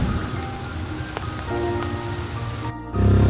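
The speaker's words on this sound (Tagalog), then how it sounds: "biglang bumuhos ang ulan" Heavy rain pouring down while waiting in a tricycle, a dense, steady hiss of drops on surfaces that briefly cuts out near the end before returning louder.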